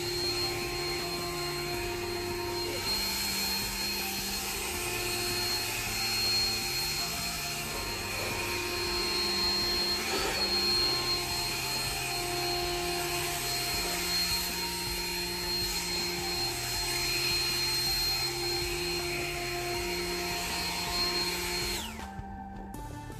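A battery-powered snow blower running on a 20-volt lithium battery hums and whines steadily at close range, its motor pitch stepping up and down for over twenty seconds before cutting off near the end.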